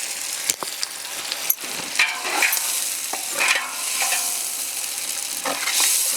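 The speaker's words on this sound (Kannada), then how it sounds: "ಹಚ್ಚಿರೋ ಈರುಳ್ಳಿ, ತಿರ್ಗಿಸು," Chopped onions frying in a pan for a village-style potato curry, stirred with a spoon: continuous close sizzling broken by scraping strokes and a few sharp taps against the pan, with no talk.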